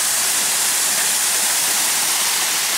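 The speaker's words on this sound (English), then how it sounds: "cool waterfall" A waterfall pours into a natural boulder pool, giving a steady, full rushing hiss of falling water that stays close and constant with no voices.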